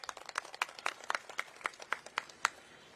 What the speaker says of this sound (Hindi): इनके लिए तालियां बजा दीजिए